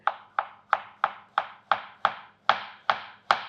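A knife thinly slicing onion on a board, about ten crisp, evenly spaced chopping strokes close up, each a sharp tap with a short scraping tail, no talking.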